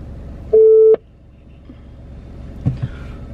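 A single phone ringing tone, one steady electronic beep lasting under half a second, loud and close, followed by quiet room noise and faint shuffling.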